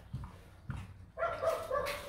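A dog gives two short low whimpers, then breaks into a sustained high-pitched whining yelp, close and fairly loud with no talk over it.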